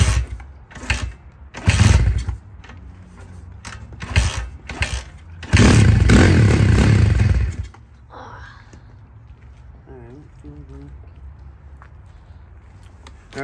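A brand-new RFZ Z40 140cc dirt bike engine in bursts of loud revving and sputtering for several seconds, then settling into a quieter, rough idle close by.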